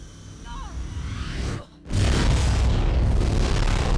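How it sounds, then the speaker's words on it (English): A muffled explosion in Mirror's Edge: a brief dip to near silence, then a sudden deep boom that rolls on as a loud, sustained rumbling roar. "World's quietest explosion in a second here."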